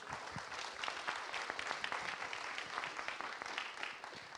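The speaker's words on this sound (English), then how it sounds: "A round of applause," An audience at a data symposium gives the panelists a round of applause; quiet, even crowd clapping that holds steady throughout and heard from a distance.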